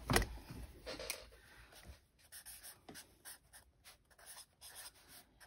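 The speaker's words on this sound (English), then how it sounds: "I just might write this all here in my little notebook with my Sharpie" A Sharpie marker scratches across the paper of a small notebook, with a couple of firm strokes near the start and then quieter, intermittent scribbling up close.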